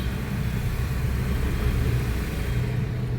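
A car drives along with a steady, low engine rumble and road noise that holds constant throughout, with no voices.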